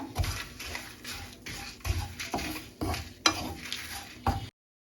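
Kashmiri chili powder cooks in hot oil in a pan, with soft sizzling under repeated rhythmic scrapes and taps of a spoon stirring it, then a sudden stop.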